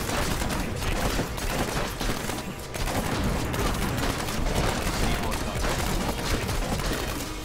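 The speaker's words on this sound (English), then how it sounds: "These guys dropping grenades and throwing them at me." Grenade blasts and rapid combat fire pound continuously in the Diablo 3 video game as enemies drop and throw grenades, dense and loud throughout with a brief dip midway, while a player talks over the action.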